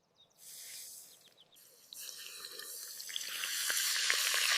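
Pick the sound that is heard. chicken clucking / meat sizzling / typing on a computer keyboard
meat sizzling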